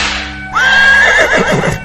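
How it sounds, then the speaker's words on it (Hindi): A horse pulling a carriage gives one loud, rising whinny that trembles and trails off over about a second, with faint hoof clatter beneath, close and clear. "गाड़ी वाले ने चाबुक चलाई और घोड़ा गाड़ी दौड़ गई।"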